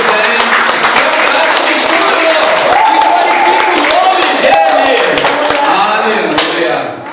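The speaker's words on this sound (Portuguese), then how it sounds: "Você pode aplaudir melhor aí." Steady applause from a large church congregation fills the space, with voices rising over it and loud singing or shouting throughout.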